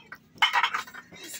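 Metal utensils and dishes being carried to be washed in a village home, a short close burst of clattering and clinking that trails off into lighter taps.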